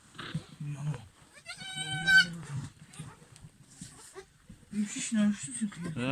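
Goats in a pen where a kid is suckling from a large nanny goat, several short nasal bleats heard close, mixed with people talking throughout.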